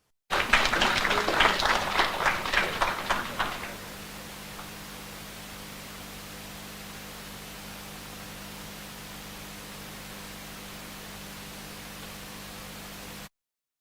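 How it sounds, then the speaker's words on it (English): An audience at a school awards ceremony claps briefly for a student. The loud patter lasts about three seconds and then drops away, leaving steady background hiss and hum. "A round of applause for Bernella."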